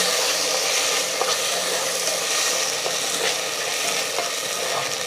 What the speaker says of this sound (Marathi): आपल्याला हे तुपावरती परतून घ्यायचे आहे